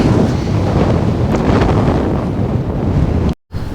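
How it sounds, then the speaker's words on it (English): Strong wind of around 20 knots blowing steadily at a freshly pitched MSR Tindheim 2 tent, loud, close rushing and buffeting across the microphone with no letup, cut by a brief dropout near the end. "The wind continues to blow up to 20, sometimes a little bit over"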